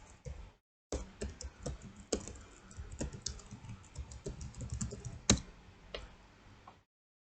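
Computer keyboard being typed on up close, a quick irregular patter of keystrokes with a brief pause near the start and one sharper key hit toward the end, fairly quiet.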